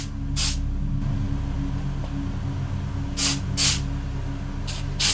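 Rust-Oleum granite stone textured spray paint sprayed from an aerosol can over a foam tombstone prop, heard as one short hiss followed by a few clustered hissing bursts near the end, all over a steady low background hum.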